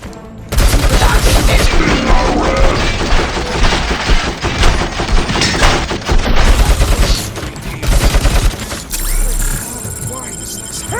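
Dense, rapid gunfire from UED robots in the RoboCop: Rogue City video game, loud and sustained in overlapping bursts with brief lulls, layered over game effects and voices.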